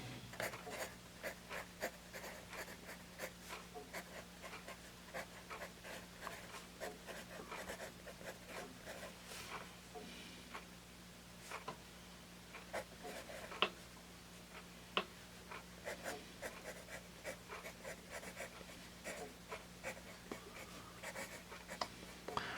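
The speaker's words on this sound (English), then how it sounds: "we will test out this Dixon Eldorado vintage pencil" A vintage Dixon Eldorado B pencil scratches across paper in a steady run of short strokes and ticks, close and fairly quiet, with no voices.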